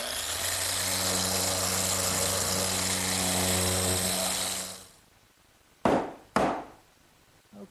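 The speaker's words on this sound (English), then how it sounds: "Well, now I can't forget the sanding." A power sander drones loudly and steadily on wood parts for a Mission-style sofa for several seconds, then shuts off, followed by two sharp knocks.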